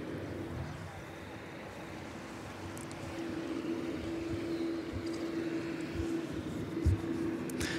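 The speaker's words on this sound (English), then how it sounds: "Seven 787 now taxiing down. This is Qantas 103 service to Honolulu." Qantas Boeing 787 taxiing at Sydney Airport at night, a steady distant jet engine drone with a sustained whine, growing slightly louder and continuous throughout.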